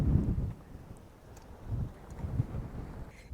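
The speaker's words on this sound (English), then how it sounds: "It is so windy. It's ridiculous." Gusty wind at a cemetery in Death Valley Junction buffets the microphone in low, rumbling surges that rise and fall, with no voices.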